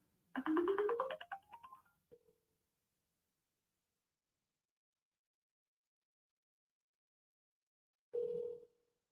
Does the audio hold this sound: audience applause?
no